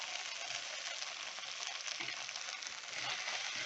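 Tomato sautéing in a pan for pepper-spiced thippili rasam, a soft, even, continuous sizzle close by with faint stirring, no voices.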